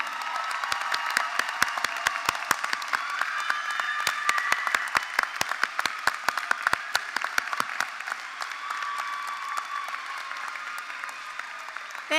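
Graduation audience applauding adult and community education graduates, dense sustained clapping with sharp individual claps standing out, loud and continuous throughout with faint crowd noise underneath.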